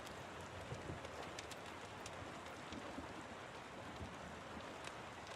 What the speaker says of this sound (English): I felt inspired to put on this rain, thunder, fireplace